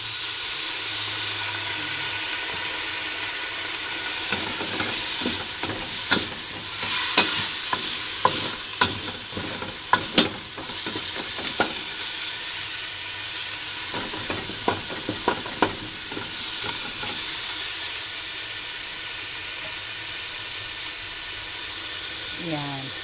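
Sayote stir-fried in a pan with pepper and fish sauce, a steady sizzle broken by bursts of rapid spatula scraping and clanks, with brief speech at the start and end.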